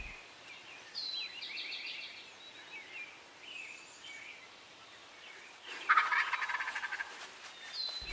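Wild turkeys gobbling at dawn as they come off the roost, several rolling gobbles at a distance in a quiet outdoor setting, with one closer, louder burst of gobbling late on.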